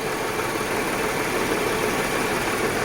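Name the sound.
car engine running rough with one fuel injector disconnected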